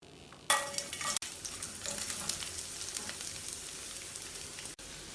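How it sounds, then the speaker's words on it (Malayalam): Chopped onion stir-fries in oil with cardamom, cloves and cinnamon, making a bright, continuous sizzle. Spatula scrapes and stirring clatter run through it at close range, with no voices. "ഇതിനി ഇളക്കി വഴറ്റാം."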